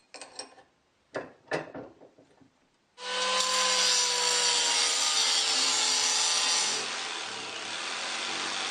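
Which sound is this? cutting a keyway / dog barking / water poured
cutting a keyway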